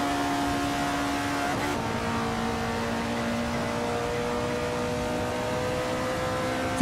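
In a racing video game, race cars drone steadily at close range, an engine note holding a constant pitch with a brief shift partway through, and no voices.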